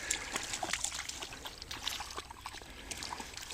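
Water trickles and splashes softly at a low water crossing in a wetland forest preserve, a quiet, irregular patter of small drips and sloshes under faint outdoor ambience.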